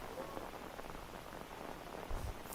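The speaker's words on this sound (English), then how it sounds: "it's the middle of the night and it's raining" Rain in the video game Microsoft Flight Simulator, played in VR at night, falls as a steady soft patter and hiss, fairly faint and continuous, with a brief low thump near the end.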